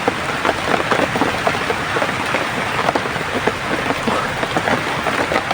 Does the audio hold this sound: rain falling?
yes